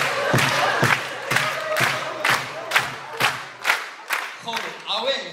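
Audience at a university KVN comedy show clapping in unison: about a dozen loud, evenly spaced collective claps in a steady rhythm, with crowd voices mixed in and a final shout.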